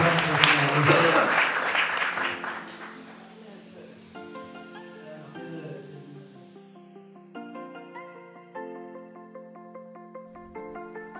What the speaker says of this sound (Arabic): صفقوا بحرارة مع أسامة اللي جاي من التاسع